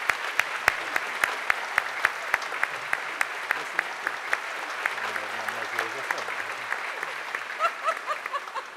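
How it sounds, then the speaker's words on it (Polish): A hall audience at a school's 150th-anniversary jubilee gala in Kraków applauds the arriving artists, opening with sharp, evenly spaced claps that settle into steady, dense applause while someone speaks over it. "Wielkie brawa"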